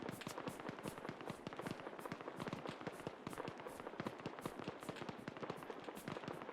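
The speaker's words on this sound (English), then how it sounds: "Those rounds are landing pretty close." Distant gunfire in Arma 3 crackles in a dense, rapid string of faint sharp cracks, rounds landing close by, steady and without talk.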